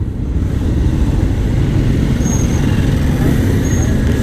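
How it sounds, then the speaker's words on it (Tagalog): Dense road traffic in Pasig, a constant loud wash of car, bus and motorcycle engines with faint brake hisses, close by and uninterrupted. "sobrang traffic dito sa Pasig pala pagka ganito"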